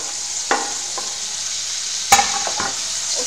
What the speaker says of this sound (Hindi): हमारा जो जिंजर गार्लिक पेस्ट था वो प्लस अनियन जो है वो फ्राई होकर तैयार हो गया है। नाउ हम इसमें टमाटो ऐड कर देंगे